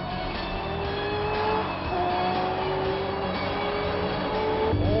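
A high-revving Ferrari F50 engine climbs steadily in pitch through the gears as it accelerates hard down a straight, loud and continuous, with a brief shift near the end.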